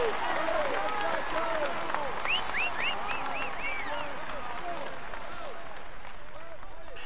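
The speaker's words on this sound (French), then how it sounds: "Allez, on l'applaudit encore." Crowd applause for the Tour de France yellow jersey winner at a cycling awards ceremony, steady continuous clapping throughout, with a voice and whistling tones over it.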